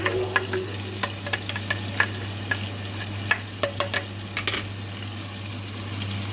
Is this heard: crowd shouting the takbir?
no